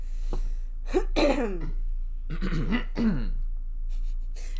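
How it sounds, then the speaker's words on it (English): Several rough throat-clearing bursts close to the mic, spaced across a few seconds over a steady low hum, with no talking. "Sorry, I keep clearing my throat."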